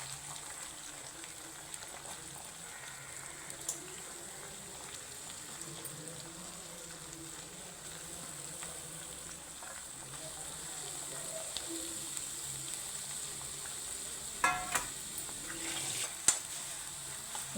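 Chopped onions sizzle in a hot pan for a mutton curry, giving a steady, even frying hiss with a few soft clinks and scrapes of stirring near the end.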